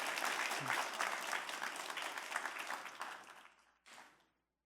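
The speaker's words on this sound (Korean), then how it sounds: "박수 한 번만 보내주세요." Audience applause at a Korean humanities lecture by a novelist, steady hand clapping that fades out over about four seconds, followed by a brief final burst before silence.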